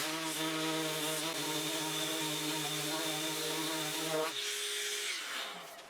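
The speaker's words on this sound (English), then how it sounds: "Everything got a thorough sanding." A power sander works over wooden kitchenette cabinet parts, giving a steady, close, buzzing whine that cuts off near the end and winds down into quiet.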